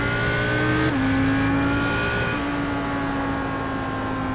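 Onboard a sports race car at Road America, a loud steady engine drone with a gear change partway through, the pitch holding fairly level near and constant.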